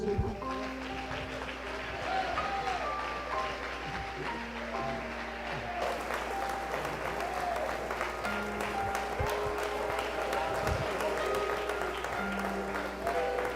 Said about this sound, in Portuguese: Só pode aplaudir Jesus.